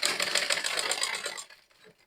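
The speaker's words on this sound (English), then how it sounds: "So I'm sewing now from center back." A sewing machine stitching fabric along the center back of a bubu gown with a cupped corset, running in a fast, steady mechanical rattle for about a second and a half before stopping, close and without talking.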